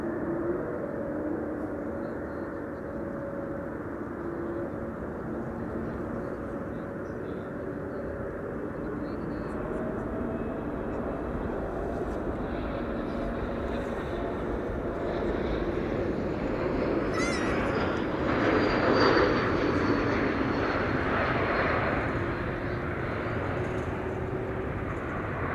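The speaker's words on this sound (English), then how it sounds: "E2 Embraer arriving from Krakow in the meantime on final here." An Embraer E2 on final approach into Amsterdam Schiphol produces a long, steady jet rumble that swells slightly mid-way, with a faint whine and occasional talk beneath it.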